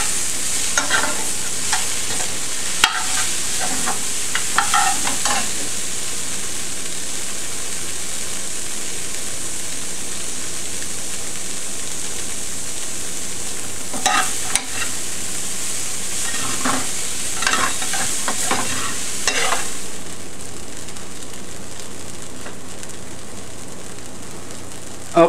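Fresh mushrooms fry loudly in a pan with a steady bright sizzle, punctuated by clusters of scraping stirs from a utensil, the hiss easing slightly near the end.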